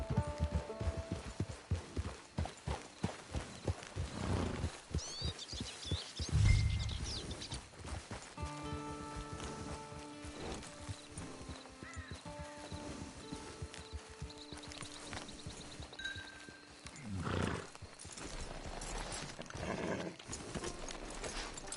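A horse clip-clops along on the approach to a camp, its hoof beats steady and fairly close, with a brief louder stretch midway and tonal background sounds running through much of the scene.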